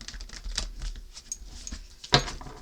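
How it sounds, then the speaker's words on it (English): A deck of tarot cards is shuffled by hand, with quick irregular riffling and slapping taps, faint soft patches, and one sharper snap near the end, close and quiet with no speech. "Let me give the deck another shuffle here."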